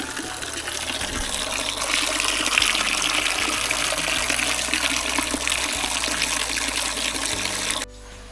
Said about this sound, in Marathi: वरतून एक झरा येतो घराचं पाणी या गोमुखातून बाहेर पडतं आहे बघा